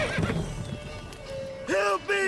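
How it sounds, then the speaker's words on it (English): In The Witcher 3: Wild Hunt, the horse Roach gives a loud, close whinny near the end, after a few soft hoof clops and a spoken line from a character. "Whoa there, Roach."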